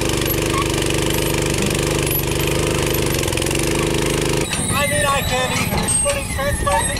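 A small engine powering a home-built self-propelled vegetable transplanter on a farm chugs loudly and steadily with a rapid knocking rhythm, then cuts out and gives way to quieter mechanical clatter.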